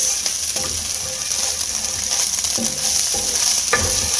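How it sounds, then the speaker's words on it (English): Cooked egg and vegetables stir-fried with cauliflower rice, a steady close sizzle under intermittent scraping stirs of a utensil in the pan, with no voices. "We're going to mix it back in with our vegetables."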